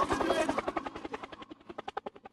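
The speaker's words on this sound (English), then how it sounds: "Helicopter, helicopter." A close helicopter thumping, its rotor beats fast and dense at first, then slowing and thinning into distinct pulses.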